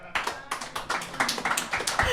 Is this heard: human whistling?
no